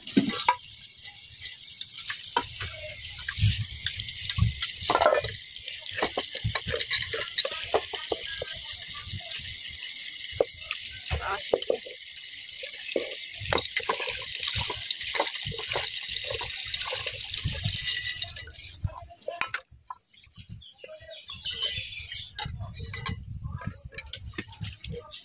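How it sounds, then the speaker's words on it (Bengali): Lata fish, cut into pieces, is rinsed in water outdoors, with steady splashing and rattling through most of the stretch before the washing falls quieter and more scattered near the end. "বসি তাকে পরিষ্কার করে তারপর মাছগুলো ধোবো"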